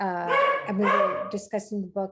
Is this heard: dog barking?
yes